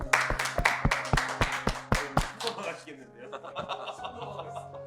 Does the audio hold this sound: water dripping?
no